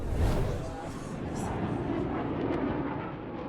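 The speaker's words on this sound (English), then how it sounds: "I added this Falcon sound effect for the airplane" Falcon airplane sound effect: a steady, broad engine roar that holds at an even level for the whole stretch, with no voices over it.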